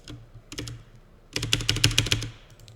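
Rapid clicking of a computer keyboard, a short burst of keystrokes followed by a pause and then a louder, denser run of fast typing, close and alone with no voices.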